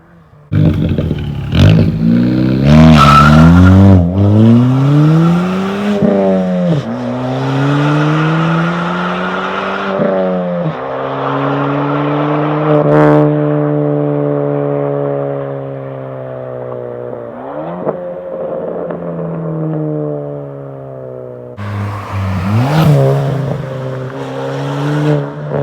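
A Ford Fiesta ST with a straight-piped exhaust and resonator deleted is driven hard, its loud, raspy engine note climbing and dropping through repeated revs and gear changes, close and with no talk.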